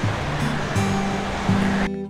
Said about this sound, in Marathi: समुद्राची गाज अशीच ऐकू येते मला